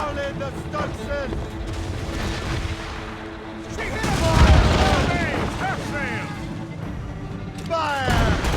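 Ship cannons firing broadsides in Assassin's Creed Rogue, heavy booms over the sea with a big blast midway, while crew voices shout orders throughout.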